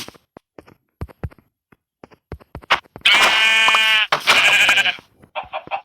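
Sheep in a video game let out two loud bleats close together near the middle, surrounded by quieter clicks and short game sound effects.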